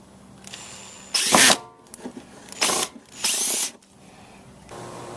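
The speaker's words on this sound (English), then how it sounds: "Then I'll drill the actual hole." Power drill boring a hole under a car to mount an LED light bar, with three loud bursts of whirring drilling separated by short pauses and small clunks.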